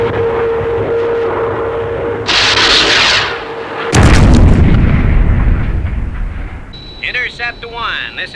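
Aircraft opens fire on a target in an air attack, with a long roaring burst of gunfire followed by a heavy, close explosion and rumbling aftermath, then a high whining tone near the end.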